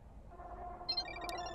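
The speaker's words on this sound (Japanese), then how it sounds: "アスカのスマホの音、ベランダから聞こえた" A smartphone rings from a balcony in the horror video game Parasocial, a faint electronic ringtone heard at a distance over a low ambient hum, its repeating tones becoming slightly clearer toward the end.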